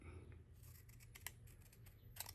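Scissors snip through paper while a planner is trimmed on a desk, giving a few quiet, crisp cuts clustered near the start and end of a short, close stretch.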